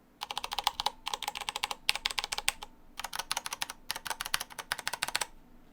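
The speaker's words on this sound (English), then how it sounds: "The K95 Platinum from Corsair with Cherry MX Brown tactile key switches." Typing on a Corsair K95 Platinum mechanical keyboard with Cherry MX Brown tactile switches, a fast, close run of crisp key clicks in several bursts with short pauses.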